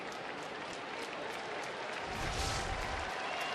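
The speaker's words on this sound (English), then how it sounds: "Gets a nice round of applause from the many Yankee fans in attendance" Baseball crowd at an away game in Chicago applauding a departing Yankees pitcher, a faint, distant, steady spread of clapping across the ballpark that swells slightly in the second half.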